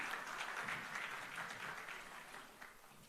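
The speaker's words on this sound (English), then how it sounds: "Can we please have a huge round of applause for gentlemen?" Faint, distant audience applause at a Young Entrepreneur Awards ceremony as a guest is welcomed on stage: a steady wash of many hands clapping, slowly tapering.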